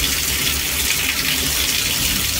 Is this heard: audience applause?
no